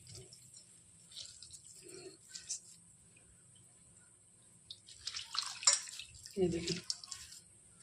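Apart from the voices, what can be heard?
water dripping from squeezed soaked bread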